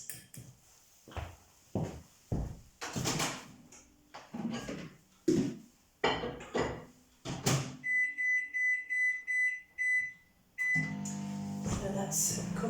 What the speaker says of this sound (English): So that's going to go in the microwave now for 6 minutes